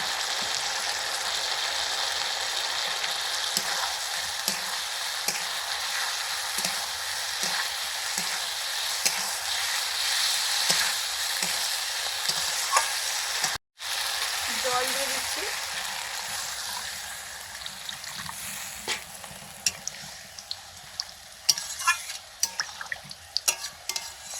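Lentil and cabbage fritters fry in a pan of hot oil, giving a steady, close, loud sizzle throughout with light scraping and clinking, broken once by a brief dropout midway.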